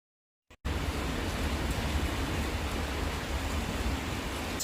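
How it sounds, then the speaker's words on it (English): Steady rain pours outside on a Friday, a dense, even hiss that starts abruptly after a brief silence and stays loud and constant throughout with no voices. "It's Friday, it's raining outside."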